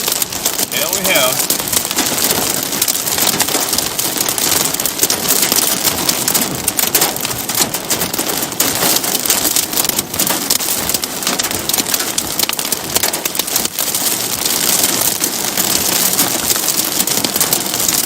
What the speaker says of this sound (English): I just love wind-driven hail. Pea-sized hail.